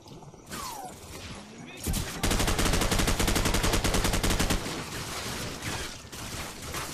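Rapid automatic gunfire from Call of Duty Modern Warfare, a dense unbroken burst of close shots for a couple of seconds after a quieter lead-in, then fading into lingering noise.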